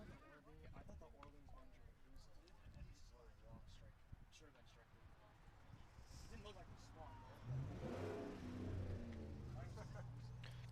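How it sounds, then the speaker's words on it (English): A truck engine revs up as it drives past a baseball field during a Hyannis Harbor Hawks at Orleans Firebirds game, swelling louder toward the end under steady play-by-play commentary. "someone revs their truck up on their way by"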